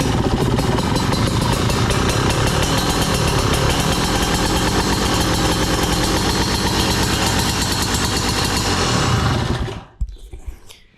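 A Yamaha DT 200R motorcycle engine, fitted with a new ignition, runs loud and steady at close range for about nine seconds, then cuts off abruptly into near silence.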